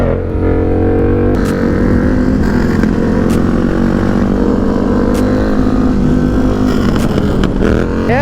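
Sport bike engine held at steady high revs during a shift lock wheelie attempt, a loud continuous drone close to the microphone with slight pitch wavering and no talk.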